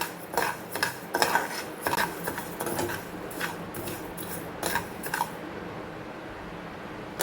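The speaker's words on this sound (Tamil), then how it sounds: "நான் வந்து புழுங்கரிசியை வறுத்துக்கிறேன்" Parboiled rice is dry-roasted in a pan, with a soft, steady rustle and scattered scraping and clinking as it is stirred, faint and close, without any voices.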